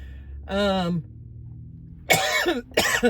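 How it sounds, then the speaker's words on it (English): A short voiced sound, then a pause, then two harsh coughs in quick succession, close to the listener. "I'm so sorry for the coughing"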